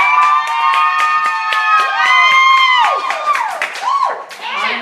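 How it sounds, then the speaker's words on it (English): An audience claps in quick, regular bursts mixed with high whistles and excited shouts, loud and close. "Everybody give me a round of applause."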